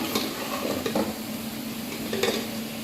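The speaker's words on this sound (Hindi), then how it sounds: "और उनको अच्छे से मिक्स कर लेंगे।" Browned onions and spices being stirred in hot oil for kadhi pakora, a steady close sizzle with soft scraping strokes of a spoon against the pan.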